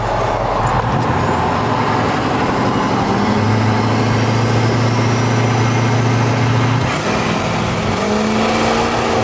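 A diesel truck fitted with oversized aftermarket injectors, four-wheel drive engaged, accelerates hard from a second-gear launch, its loud engine roar climbing in pitch through the gears with a brief dip at a shift, no voices over it.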